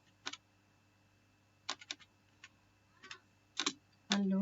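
Sparse bursts of keystrokes on a computer keyboard, tapped in short clusters with pauses between, close and fairly quiet, ending in a louder thump.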